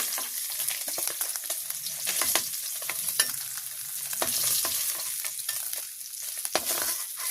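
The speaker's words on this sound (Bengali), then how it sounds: "আমার এই মাছটা ভাজি হয়ে গেছে, আমি এখন নামাই নেব।" Hilsa fish fries in a pan of hot oil with a steady, close crackling sizzle throughout, dotted with small pops and spatters.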